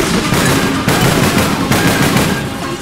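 Sustained automatic gunfire in the APB Reloaded online shooter, a loud, dense stream of rapid shots running almost without a break, with brief dips in the rate.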